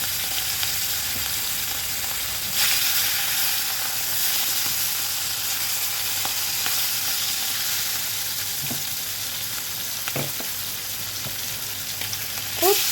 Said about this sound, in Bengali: তো তেল গরম হয়ে গেছে, এবার মাছগুলোকে একে একে আমি ভেজে নেব।